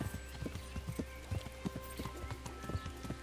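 Horse hooves clip-clopping at a steady walk on a road beside a stream in Kingdom Come: Deliverance, a regular close rhythm of hoof strikes over a low ambient bed, with a brief neigh.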